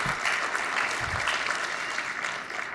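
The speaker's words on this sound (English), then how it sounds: "Round of applause for the presenting sponsors." Steady audience applause for sponsors at a commercial real estate outlook conference, many hands clapping in a full, even wash that stays consistent from start to finish.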